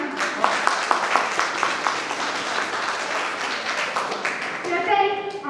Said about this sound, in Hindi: जरा जोरदार ताली भी बजा दीजिए